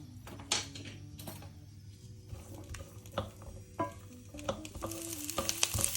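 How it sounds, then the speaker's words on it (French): Shallots sweating in hot sunflower oil in a pan over high heat, a low sizzle punctuated by clacks and scrapes of utensils stirring, building slightly toward the end, with no speech. "Je fais chauffer à feu vif et j'y fais suer les échalotes."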